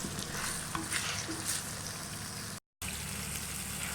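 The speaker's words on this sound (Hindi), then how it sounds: "टमाटर और प्याज अच्छे तरीके से फ्राई हो चुके हैं" Onions and tomatoes frying in a pan over a low flame, a steady close sizzle with soft crackles and a few stirring sounds, broken by a brief gap of silence.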